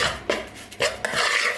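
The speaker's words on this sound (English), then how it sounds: "Give it a quick little stir." Quick stir of vegan meal ingredients in a kitchen pot, with a few sharp utensil clinks and scrapes against the cookware, close and fairly loud with no talking.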